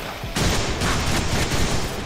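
A rapid burst of gunfire erupts after a brief quiet moment in the video game Deadpool, shots rattling in quick succession with a game-like, processed quality.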